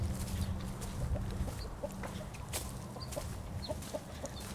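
Several Delaware chickens cluck and murmur nearby in short, scattered calls over a steady low rumble, with occasional sharper squawks, outdoors in arctic winter weather.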